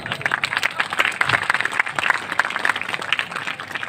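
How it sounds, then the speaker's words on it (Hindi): Audience clapping during a bhajan performance at a gurukul gathering, a steady wash of many hands beating close together, continuous and moderately loud throughout. "इसलिए तालियां बजाना बहुत अच्छी बात है"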